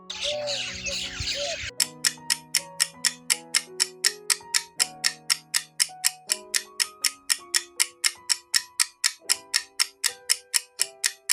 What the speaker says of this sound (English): This is myna.